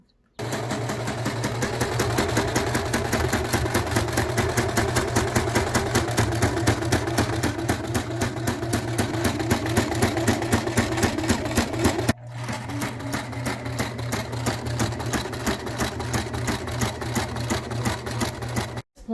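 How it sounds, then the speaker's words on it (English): Sewing machine stitching a homemade fabric face mask, a steady rapid mechanical whir with dense needle rhythm running loud and close, briefly pausing near the end before resuming. "And then now you will get to sewing."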